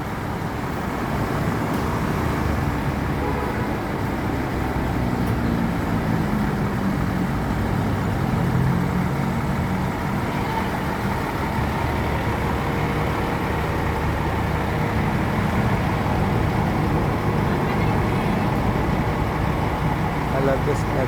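Inside a Rosalia Indah intercity bus travelling from Palembang toward Jakarta, a steady low engine and road rumble fills the cabin throughout while people talk over it.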